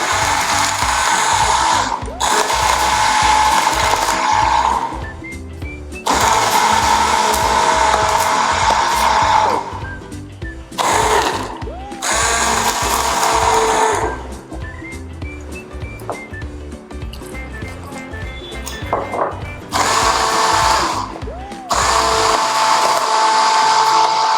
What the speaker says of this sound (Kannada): ಇವಾಗ ಇದನ್ನ ಮತ್ತೆ ಬ್ಲೆಂಡ್ ಮಾಡ್ಕೊಳ್ತಾ ಇದ್ದೀನಿ